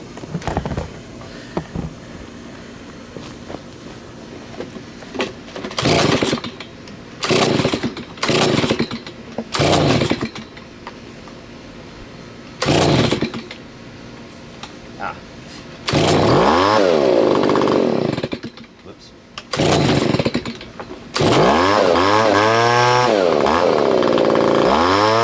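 A neglected Stihl BG55 leaf blower, a small two-stroke engine, alternates between a rough idle and sharp revving bursts, with the later revs longer and climbing strongly in pitch, loud and close.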